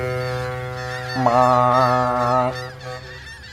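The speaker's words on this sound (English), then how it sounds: "our little ferry sound" A deep, steady ferry horn in Euro Truck Simulator 2 blares for about a second over a low engine drone, then cuts off, leaving the hum.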